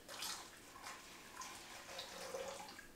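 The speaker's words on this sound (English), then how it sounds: "we're going to go ahead and we're going to pour that mixture" Liquid mixture for king cake dough poured into a bowl, a soft continuous splashing trickle with faint drips, close and quiet, without talk.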